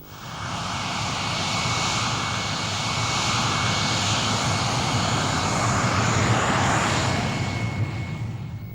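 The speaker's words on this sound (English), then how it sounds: "Geoffrey Pike was first away in the night fighter, whilst the experimental staff worked unceasingly on the Venom" A de Havilland Vampire night fighter jet taking off, a loud, continuous engine roar with a thin whining tone that holds strong for about nine seconds, swelling slightly near the end.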